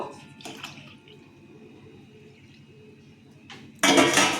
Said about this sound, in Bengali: এখানে গরম জল বসিয়ে রেখেছিলাম জলটা ডালে দিয়ে দেবো